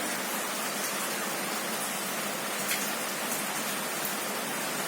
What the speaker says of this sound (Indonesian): karena sekarang ini kondisinya lagi hujan